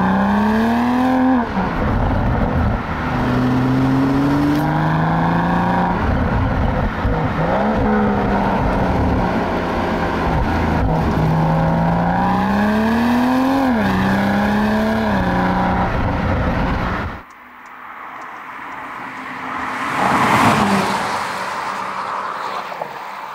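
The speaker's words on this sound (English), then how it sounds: "put it into manual, put our foot down, give you a little sample of what she's like" A BMW M340i xDrive with an 8-speed ZF automatic, shifted manually, accelerates hard: a loud, close engine note climbing through several gear changes, then a sudden drop and a brief surge near the end.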